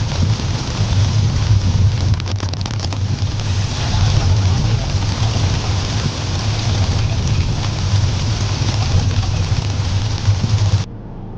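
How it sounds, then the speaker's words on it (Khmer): Rain falls during a road trip in a Hyundai, a steady dense hiss with a low rumble underneath that runs continuously for about eleven seconds before cutting out abruptly. "គេថាមេឃភ្លៀងហើយចាប់ផ្ដើមភ្លៀង"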